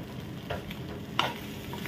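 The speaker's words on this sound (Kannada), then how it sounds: "ಅರ್ಧ ಸ್ಪೂನಷ್ಟು ಚಿಲ್ಲಿ ಪೌಡರ್ ಕೂಡ ಹಾಕಿ ಚೆನ್ನಾಗಿ ಫ್ರೈ ಮಾಡೋ." Chilli powder frying in a pan, a soft steady sizzle with a couple of brief scrapes or clinks from a spoon, quiet and brief with no talking.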